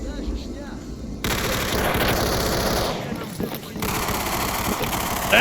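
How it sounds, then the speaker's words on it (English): Sustained automatic gunfire in the shooter game Stalker Anthology crackles in rapid bursts, with a brief lull and then more shooting, loud and continuous over background game noise. "That is a lot of gunfire."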